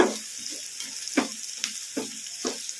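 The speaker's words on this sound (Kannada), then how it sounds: "ಉಳ್ಳಾಗಡ್ಡಿ ಗೋಲ್ಡನ್ ಬ್ರೌನ್ ಕಲರ್ ಬರೋವರೆಗೂ ಫ್ರೈ ಮಾಡ್ಕೋಬೇಕು" Onions fry on a medium flame with curry leaves in a pan, a steady soft sizzle broken by regular scraping stirs, close and without talk.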